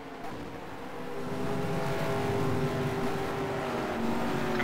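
Race car engines drone steadily in a sim racing game, several cars humming together at moderate distance with a rising, sustained whine and no clear talk.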